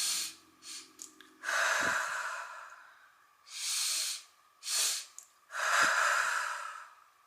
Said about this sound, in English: So I go deep breath in, hold it, and then an extra one